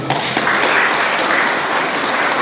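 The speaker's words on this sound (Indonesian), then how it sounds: "Tepuk tangan dulu." Loud, steady applause from a large crowd at a provincial para-sports games ceremony in South Sumatra, continuous clapping filling the whole stretch without pause.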